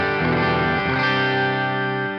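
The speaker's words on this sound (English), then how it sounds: "I'm using the Mesa Boogie Lonestar amplifier in my Quad Cortex" An electric guitar played clean through a Mesa Boogie Lonestar amp model on a Quad Cortex, with ringing chords changing a couple of times, steady and full, with no talking.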